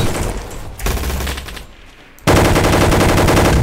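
Rapid automatic gunfire from a gun in the Roblox game Gunfight Arena, loud and dense bursts with a brief lull midway before a sustained, continuous stream of shots to the end.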